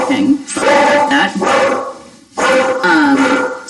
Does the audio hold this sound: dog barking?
yes